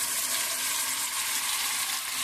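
Prawns dropped into hot oil and tomato masala set up a loud, steady sizzle and hiss with no break, the spitting fry filling the whole moment, close and continuous.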